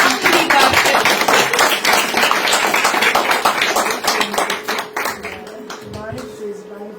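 A room full of people applauds at a book launch: dense, steady clapping that runs loud for several seconds, then thins out toward the end while a voice speaks over it.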